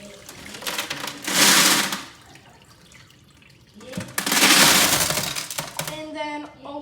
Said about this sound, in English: pour out all the water